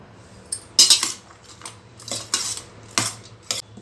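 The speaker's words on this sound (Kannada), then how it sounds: "ಈಗ ಇದನ್ನೆಲ್ಲ ಚೆನ್ನಾಗಿ ಮಿಕ್ಸ್ ಮಾಡಬೇಕು." A spoon clinks against a vessel while banana, grated coconut, pomegranate, raisins and honey are mixed into a fruit rasayana, several close, bright metallic knocks and scrapes in uneven bursts, with no talking.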